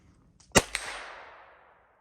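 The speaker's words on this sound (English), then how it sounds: "Listen to the ping." A single gunshot strikes a metal target at a target-shooting range, giving one sharp crack followed quickly by a bright metallic ping that rings out and fades over about a second.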